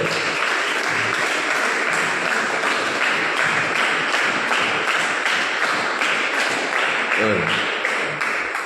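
A church congregation claps steadily and densely throughout, a sustained near applause with no pauses. A brief voice is heard near the end.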